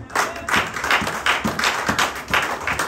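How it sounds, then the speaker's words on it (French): A church congregation at a Sunday worship service claps for the mothers, a steady rhythmic applause of fairly loud, evenly spaced claps. "Est-ce qu'on peut applaudir pour les mamans?"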